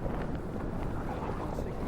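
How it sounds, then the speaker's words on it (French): Strong wind gusts buffet a float tube on Lac du Salagou, a loud, rough low rumble of wind against the microphone that churns steadily throughout, no speech. "On est bercé par les fortes rafales de vent."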